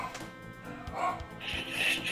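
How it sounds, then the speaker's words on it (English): Dog barking in Chrono Trigger, a retro role-playing game: a few short yaps and barks scattered over a bed of game music, moderately loud and close. "shut that dog up."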